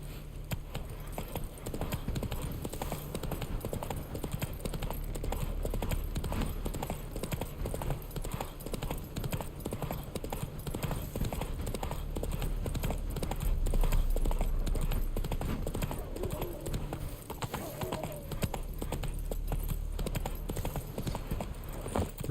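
A horse gallops in The Witcher 3 video game, steady rapid hoofbeats pounding continuously for over twenty seconds at close range, with occasional faint talk beneath.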